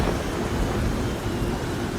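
A brief wash of heavy rain with a low rumble of thunder underneath, steady and enveloping, no voices.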